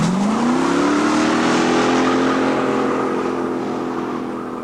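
Cars at a street drag racing venue in Melbourne accelerate hard, engine pitch climbing steadily in one long loud pull before easing and fading slightly, with no voices.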